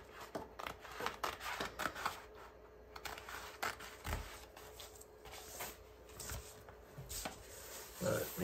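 Scissors snip through material during a keyboard build, a string of short crisp cuts with irregular spacing, close and moderately loud, with faint handling noise between.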